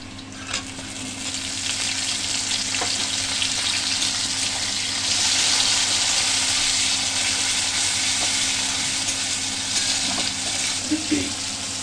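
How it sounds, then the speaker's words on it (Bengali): Chopped tomatoes dropped onto reddened onions frying in a pan for a village-style chela fish curry, a loud continuous sizzle with occasional stirring scrapes throughout. "এবার আমি এর উপরে টমেটোটা দিয়ে দেবো।"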